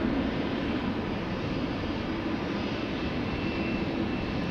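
SAS jet airliner departing Amsterdam Schiphol Airport for Copenhagen, a steady loud engine roar holding broadband rumble throughout, close by and continuous with no talk.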